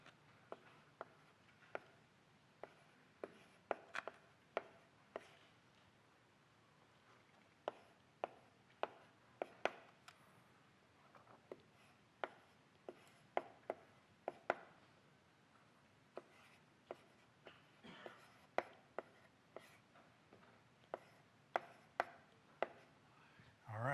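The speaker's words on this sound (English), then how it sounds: "let me write it down here" Chalk or marker tapping and scratching on a board during a calculus lecture, heard as a steady run of sharp, close ticks and short strokes spread across the whole stretch, with no talk over them.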